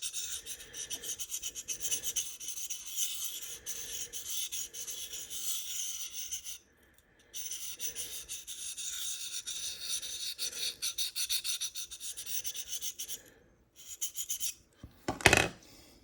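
A knife blade is drawn over a Sharpal field sharpener in steady repeated rasping strokes, close and fairly loud, with a short pause midway and a sharper scrape near the end.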